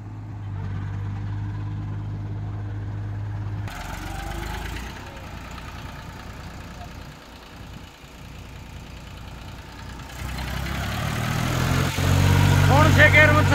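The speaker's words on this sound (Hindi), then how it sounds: "चौथे गियर के अंदर ये मशीन में चल रहा है ट्रैक्टर" A tractor engine runs in fourth gear, driving a machine at a brick kiln, a steady low drone that shifts in pitch and loudness a few times, with people talking over it.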